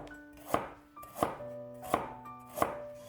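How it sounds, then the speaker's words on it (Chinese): A knife slicing a piece of fresh ginger into thin slices on a cutting board, four crisp evenly spaced chops about two-thirds of a second apart, close and clear with nothing else heard. "一块生姜切成姜片"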